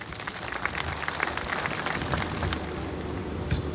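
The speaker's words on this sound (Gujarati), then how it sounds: "તાળીઓના નાદથી વધાવીએ" Audience clapping at a ceremony, steady, moderately distant applause from a crowd that continues evenly for a few seconds.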